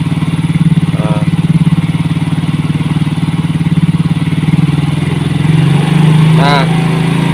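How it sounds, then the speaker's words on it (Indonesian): A Yamaha X-Ride motorcycle engine runs steadily and is revved slowly, rising a little in the middle, with a charging regulator being fitted and its output current measured. Brief voice sounds come through over the steady hum. "kita gas perlahan."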